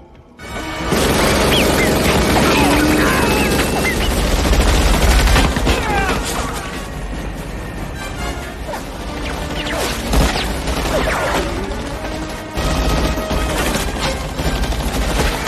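Rapid, sustained gunfire from an action film: dense, loud fusillades of overlapping shots and crashing impacts that continue almost without pause, with a brief dip before the firing resumes.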